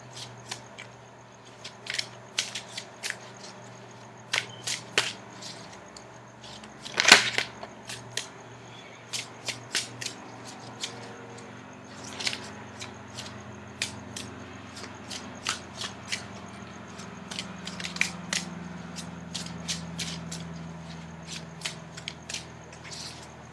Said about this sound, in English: Now I'm going to shuffle for the outcome card.